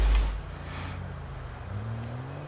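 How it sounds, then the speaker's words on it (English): A car engine in Grand Theft Auto V idles with a steady low rumble, then its pitch climbs as it revs up near the end. "God, this car sounds so nice"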